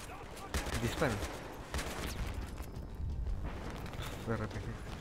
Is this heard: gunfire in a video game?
yes